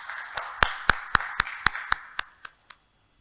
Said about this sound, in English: I request you all to please clap for her.